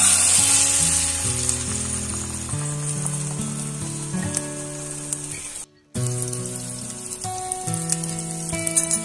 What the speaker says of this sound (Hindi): अब एक पैन गरम करते हैं, उसमें 2 चम्मच ऑयल डालते हैं। अब इसमें ये ऑमलेट डाल देते हैं।